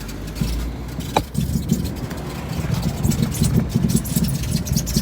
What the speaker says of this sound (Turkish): Arabayı otoparka koyacağım.